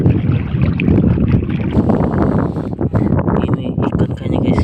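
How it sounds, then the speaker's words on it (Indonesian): Strong, gusty wind roars continuously over a small boat at sea during an octopus-hunting trip in extreme weather, a dense buffeting rush close to the microphone with water and hull noise beneath. "Angin terlalu nih"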